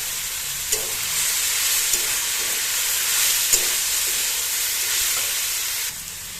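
Fried brinjal is stirred into fenugreek greens cooking in a pan, a steady bright sizzle with occasional soft scrapes and knocks running the whole time, close up and alone.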